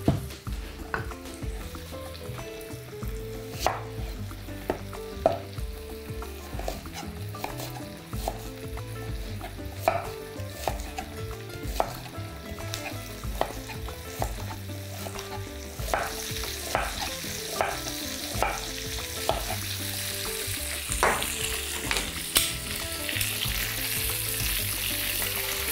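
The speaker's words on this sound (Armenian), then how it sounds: "եւ սոխեռած կանենք առատ սոխով" Onions sizzle and fry in a pan as a utensil stirs them, a steady bed of frying hiss broken by frequent scraping clinks and taps.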